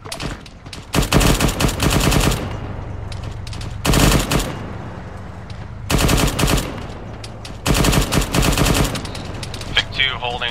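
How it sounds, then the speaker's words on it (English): Machine gun suppression fire during convoy squad training, with long rapid bursts of loud, close automatic fire separated by pauses and radio-style talk in between. "Vic 2 holding, providing suppression fire."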